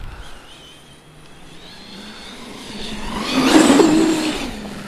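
An Arrma Fireteam RC car on Proline Dumont paddle tires revs up to full throttle in snow, a high motor whine rising in pitch and loudness to a peak near the end.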